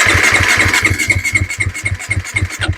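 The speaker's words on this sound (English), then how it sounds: "hold the off button on and hit your starter. Just let it kind of prime and crank a little bit." KTM 350 SX-F dirt bike engine cranking on the electric starter to prime fresh oil, a close, rapid rhythmic chugging that does not fire, steady throughout.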